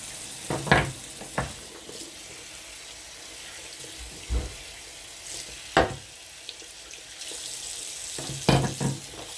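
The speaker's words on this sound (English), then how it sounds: "Rinse it off." Tap water runs continuously in a low hiss while a horn is rinsed under it, with a handful of sharp splashes and clunks as the horn is moved around in the stream.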